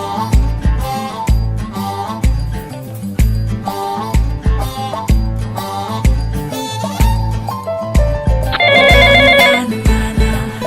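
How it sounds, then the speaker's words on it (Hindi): A phone ringtone plays loudly as a repeating melodic tune with percussive beats, shifting into a higher trilling ring near the end. "आपका फोन बार बार रिंग कर रहा है"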